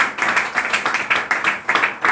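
A church congregation claps together in worship, a rapid, dense patter of many hands close by, keeping up an uneven rhythm throughout with no voices on top.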